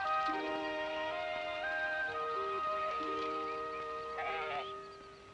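A bighorn sheep in its alpine mountain habitat gives a short bleat toward the end, heard under steady sustained tonal music that fades out.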